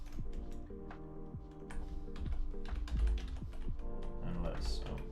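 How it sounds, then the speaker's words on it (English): Rapid, uneven computer-keyboard typing while building a node setup in a 3D graphics project, close and clear, with key clicks bunched in bursts over a steady low hum and faint tonal music. "my typing is fucked."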